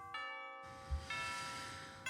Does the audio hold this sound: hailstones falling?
no